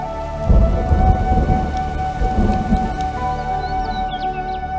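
Heavy monsoon rain pours steadily in India with rumbling thunder, loud and continuous throughout with no voices.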